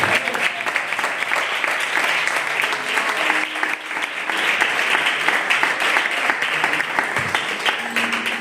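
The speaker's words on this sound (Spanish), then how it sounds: "¿Cuántos aplauden a la Escritura?" A church congregation applauds during a Spanish-language sermon, a dense, steady wash of many hands clapping that holds at full strength for the whole stretch without any speech over it.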